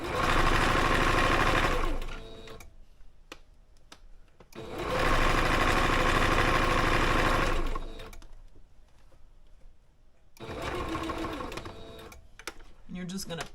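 Domestic sewing machine stitching fabric in three loud bursts of steady motor whir, separated by quieter pauses with small handling clicks while the needle is lowered and the fabric pivoted at a V.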